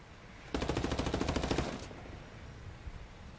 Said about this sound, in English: One of his buddies was shooting at me.